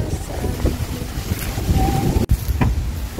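Strong wind buffets the microphone in loud, steady rumbling gusts at a car camping site in Alfonso, Cavite, with a brief dropout partway through and faint watery splashing underneath.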